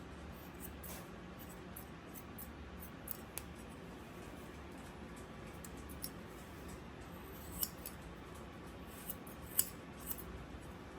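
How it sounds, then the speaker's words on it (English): Rapid, repeated snips of scissors working close up around a Schnauzer puppy's face and ears during grooming, with a few sharper clicks standing out over a low steady background hum. "having scissors and the sounds of scissors around his face"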